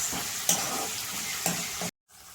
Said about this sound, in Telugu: మనం వేయించి పెట్టుకున్న పొడి బాగా ఫ్రై చేయాలి.